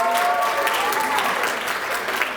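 Steady audience applause at a psychiatry and behavioral sciences graduation and awards ceremony, dense continuous clapping from a large crowd with a faint voice briefly audible beneath it.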